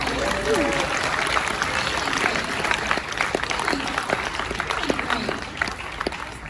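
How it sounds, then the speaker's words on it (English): An audience at a convention script-reading panel gives a round of applause, steady crowd clapping filling the room at moderate level, with some voices mixed in. "Just give everybody a round of applause."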